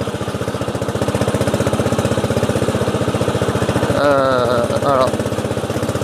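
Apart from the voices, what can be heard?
racing lawn tractor engine running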